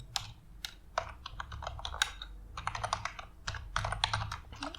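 Rapid, uneven keystrokes on a computer keyboard while entering Laravel 8 PHP code for an admin dashboard, close and clear with short pauses between bursts and no talking.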